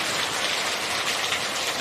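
Steady rain pouring outdoors around a 1975 Volkswagen Super Beetle during bodywork, a dense continuous hiss of drops on surfaces, close and loud with no talking.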